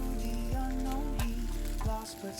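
Breakfast quesadilla with melting cheese sizzling steadily in a hot pan, a continuous close frying hiss with a low hum and a few faint tonal sweeps over it, no talk.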